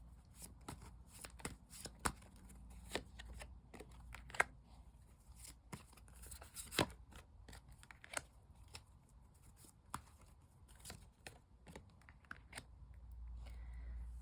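Tarot cards being shuffled and drawn at a reading, quiet close riffles and soft snaps in irregular bursts, a faint low hum underneath and no voices.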